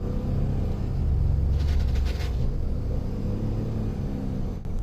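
A car driving at a Florida car dealership, its steady low engine rumble and road noise continuous and close throughout, with a brief rise partway through and no talking.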